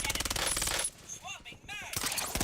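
Rapid bursts of automatic gunfire in a first-person shooter, a dense rattling volley at the start and another at the end with a quieter gap between, where faint voices and game sounds sit.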